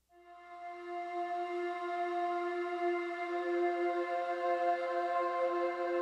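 Soft sustained synth pads hold a root and fifth together, fading in and then swelling gently in a calm, steady drone with no other sound.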